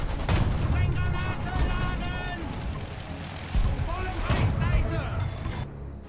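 Tank machine-gun fire in the War Thunder video game, with a dense, steady clatter of shots and battle noise running the full length under overlapping voices.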